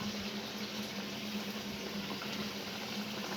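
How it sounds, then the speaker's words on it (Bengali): Nimki fry over medium-low heat in hot oil in a wok, giving off a steady, dense sizzle that continues without a break. "তো আমি মিডিয়াম লো আঁচে রেখে আস্তে আস্তে সবগুলো নিমকি আমি ভেজে নেব।"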